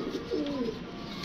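Pigeon giving a brief low coo at night among kept birds, one soft call close by over quiet background hum.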